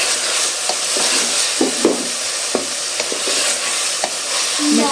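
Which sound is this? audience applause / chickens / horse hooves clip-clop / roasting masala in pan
roasting masala in pan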